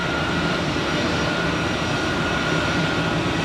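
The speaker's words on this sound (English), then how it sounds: "And the first one is a Swiss A330 to New York John F. Kennedy" A Swiss Airbus A330 heavy jet departs Zurich Airport, its engines giving a steady, loud broadband roar with a faint whine, unbroken throughout and with no voices.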